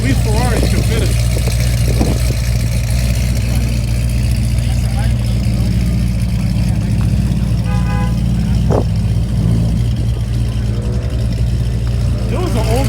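A Ferrari F430 runs at a car show in Freeport, NY, a loud, steady engine rumble close by, with a brief horn-like toot and people talking over it.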